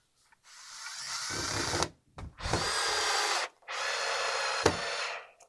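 A power drill drives a 2.5-inch screw into wood during a tall deck chair build, three loud close whirring bursts separated by short pauses, the motor straining as the screw bites.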